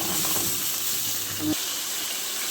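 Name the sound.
chicken strips sautéing in a pan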